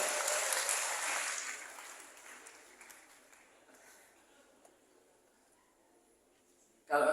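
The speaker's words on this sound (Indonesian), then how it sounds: "Tepuk tangan dulu lagi sekali lagi buat tamu kehormatan kita." Applause from a youth forum audience for guests of honour, loud at first and fading steadily over several seconds, with a brief loud burst returning at the very end.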